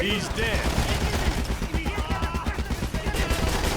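Sustained automatic machine gun fire from the Ghost Recon Advanced Warfighter 2 video game, a dense rapid rattle of overlapping gunshots running loud and steady throughout with no pause.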